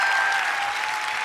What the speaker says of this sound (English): Can we give Alex Rodriguez another round of applause for that?